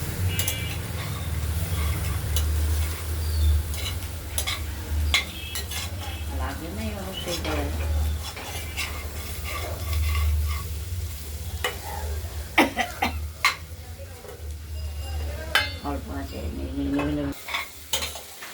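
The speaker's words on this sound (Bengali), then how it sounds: "ফুলকপিটা মাঝে মাঝে নাড়াচাড়া দিতে হবে নাড়াচাড়া না দিলে কড়াইতে লেগে যাবে আর ভাজা হবে না ভালো" Cauliflower frying and being stirred in a wok, with steady sizzling under repeated scraping and clinking of a utensil against the pan, continuous and close throughout.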